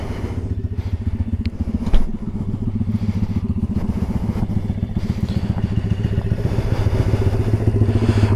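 An SSR 140cc pit bike engine revs steadily and loudly throughout, with a brief clatter or thud near the start, and no talking.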